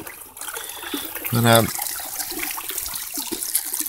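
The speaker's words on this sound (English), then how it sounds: "out here on the beautiful creek" Creek water running over bedrock during gold prospecting, a steady broadband rush that carries through the whole stretch, with a brief word spoken over it partway through.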